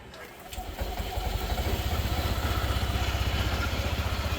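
Bristol ADX 160 motorcycle engine starting up and settling into a rapid, even idle, a close, steady low chugging that continues after the start, with someone talking over it.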